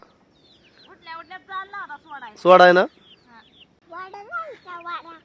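Chickens being let out cluck and squawk nearby at a herders' camp, with one louder, harsher burst midway, while people talk over them.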